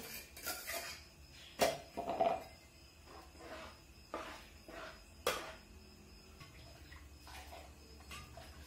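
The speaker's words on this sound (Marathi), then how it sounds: "हे बघा मसाला आणि भाजी सगळं मिक्स करून घेणार खाली." Spoon scraping and clinking against a cooking pot while masala and vegetables are stirred together, several sharp metallic knocks and scrapes at irregular intervals with soft shuffling between them, close and moderately quiet.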